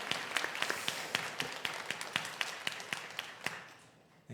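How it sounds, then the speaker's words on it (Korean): A church congregation at a Christmas worship service claps, sharp but fairly sparse handclaps carried by the hall, thinning out and fading near the end. "우리 수고한 시원 찬양대에게도 우리 격려의 박수를 드리도록 하겠습니다."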